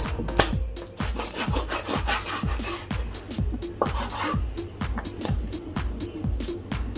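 Repeated rhythmic scraping strokes of a knife cutting fish on a board, a quick steady series of cuts close up, with no talking.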